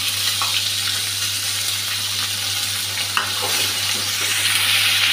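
Onion and green chilli with a bay leaf frying in a pan, a constant close sizzle with light intermittent stirring clicks and scrapes over it.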